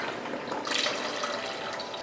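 Water runs steadily into a bowl of Irish sea moss as a continuous close splashing pour lasting a couple of seconds.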